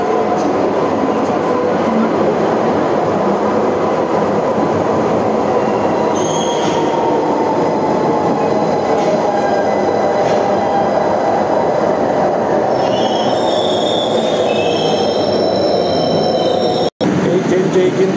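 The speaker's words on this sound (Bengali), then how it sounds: "একটি ট্রেন আসছে," A train from Dum Dum pulls into Kavi Subhash, the last stop, with a loud, continuous rumble of wheels on rails and high squealing as it draws in close, cutting off abruptly.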